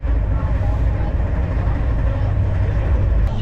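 Steady, loud rumble of a passenger train running from Howrah toward Bardhaman Junction, heard from inside a carriage as a continuous low roar with a faint click near the end and no speech.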